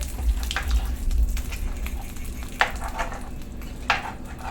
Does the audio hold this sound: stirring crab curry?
yes